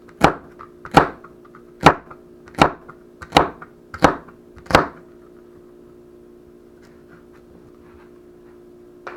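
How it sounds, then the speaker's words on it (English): Seven sharp knife chops cut the ends off carrots on a board at a steady pace, close and loud, followed by a low background hum. "Now I cleaned and washed the carrots, so cutting the end."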